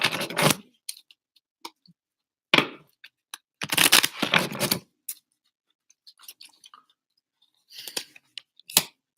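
Tarot cards being shuffled in several quick riffling bursts, crisp papery flutters separated by pauses, with small taps and clicks in between.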